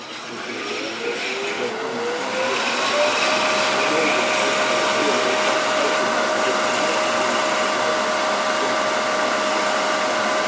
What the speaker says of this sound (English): going to start with 120 here on the sandpaper on this. I'm going to sand this up a little bit.